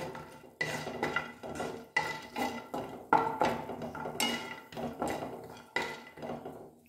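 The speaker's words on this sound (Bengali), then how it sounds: "কাজুটা একটু নাড়াচাড়া করে নিয়ে তারপর টমেটো দেবো" Cashews stirred in a cooking pan: a steady rhythm of spoon scrapes and metallic clinks against the pan, about two strokes a second, close and clear, with no voices.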